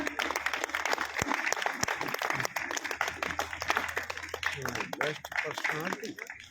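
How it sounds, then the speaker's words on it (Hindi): Crowd applause and clapping at a stage event as people are called up, sustained and lively, with someone speaking over it for much of the time. "दिनेश भाई के लिए जोरदार तालियां।"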